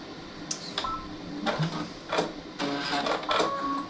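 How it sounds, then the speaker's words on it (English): A sewing machine runs in short bursts while stitching a pillowcase seam, its mechanical whir starting and stopping several times at close range with no talk over it. "I'm going to start sewing it again."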